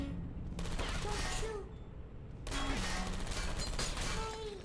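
Turrets fire in the Portal 2 video game in rapid automatic bursts, two long spells of rattling gunfire separated by a short pause, with faint game sounds underneath.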